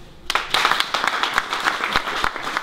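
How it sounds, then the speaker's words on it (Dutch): A hall audience gives hearty applause for food bank volunteers at a Lions club event, a short burst of close, crisp hand claps starting abruptly and holding fairly steady. "En ik wil eigenlijk een hartelijk applaus hebben voor al die vrijwilligers."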